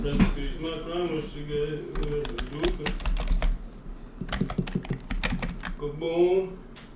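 Quick clicking keystrokes on a computer keyboard patter in irregular bursts, close up, while people talk over them during a livestream.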